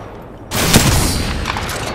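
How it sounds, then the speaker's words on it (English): Sudden sustained gunfire in the battle royale shooter Apex Legends, breaking in after a quiet moment as a loud, dense barrage that keeps going without pause. "They're shooting at me."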